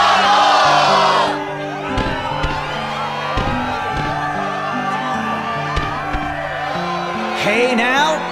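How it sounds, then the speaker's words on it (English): Crowd cheering in the Kingdom Hearts video game, a large audience roaring and whooping under steady background music, with the cheer swelling at the start and again near the end. "the crowd is fired up"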